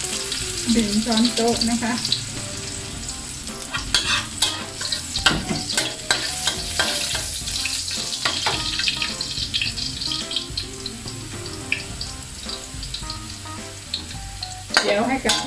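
Chopped Thai garlic stir-fries in a pan with a loud, constant sizzle and repeated scraping and clattering strokes of a spatula, while someone speaks briefly over it.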